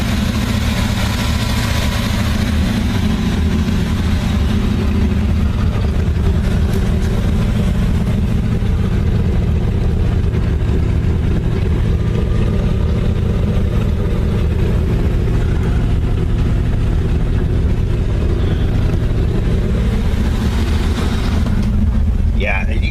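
Car with a brand new engine idling at a car show in Molalla, Oregon, a loud, steady low rumble running throughout with a slight rise in revs near the end, and someone talking over it.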